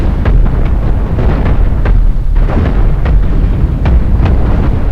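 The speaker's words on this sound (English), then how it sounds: "Oh, something blew up here." Ship parts blowing up during a Cosmoteer space battle, a loud run of rapid booming blasts and pops that keeps going without a break.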